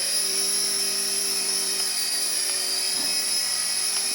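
A small toy remote-control helicopter hovers nearby with a steady, high-pitched electric motor whine and rotor buzz, constant and even throughout with no talking.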